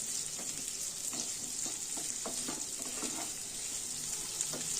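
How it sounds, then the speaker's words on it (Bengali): Cauliflower and green chili fry gently in a pan, making a constant high, hissing sizzle. Scattered soft stirring knocks and scrapes sit beneath it throughout, with no talking. "দিয়ে এটাকে এবার ভালো করে একটু ভেজে নেব।"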